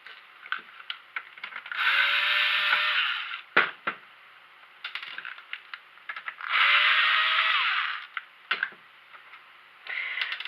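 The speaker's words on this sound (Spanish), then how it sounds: "solo tendríamos que coger y con un destornillador eléctrico pues lo vamos a quitar" An electric screwdriver whirs in steady bursts of about two seconds, loosening the screws on a PS4 Fat console casing, with small clicks and handling taps between runs, close and fairly loud.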